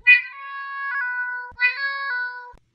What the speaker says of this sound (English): like Lady Gaga, Lady Pawpaw meows with perfect pitch